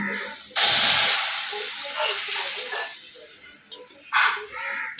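Tamarind pulp hits a hot wok with a sudden loud hiss that slowly fades. Softer bursts follow, and a second sharp sizzle comes near the end.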